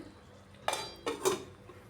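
A lid set onto a cooking pan of stuffed eggplant curry, giving a few short metallic clanks close by in a quiet kitchen.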